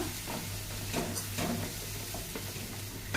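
Ginger garlic paste stirred into hot oil in a pan, a steady close sizzle with spoon scrapes and light clicks running throughout.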